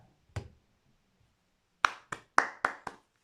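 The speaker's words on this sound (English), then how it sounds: "Clap for Brazil, okay?" Sharp, close hand claps in a quiet room: a single clap, a pause of over a second, then five quick claps in an uneven rhythm.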